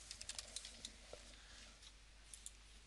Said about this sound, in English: My typing isn't very good